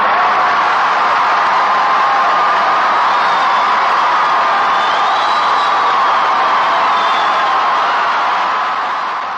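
A large Jonestown crowd claps and cheers steadily, a dense roar of applause with whoops and yells holding at full loudness throughout, easing only slightly at the very end.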